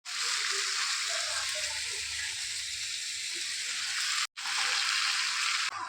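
Malabar spinach dropped into a pan where fish heads have been fried with ground spice and chili paste, giving a steady close hiss and splashy sizzle that runs on with a brief break near the end.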